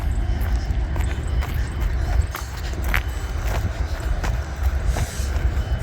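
A freight train with Norfolk Southern and Ferromex locomotives rolls past steadily, with a loud, continuous low rumble and faint rhythmic clanks of cars over the rails, heard up close outdoors.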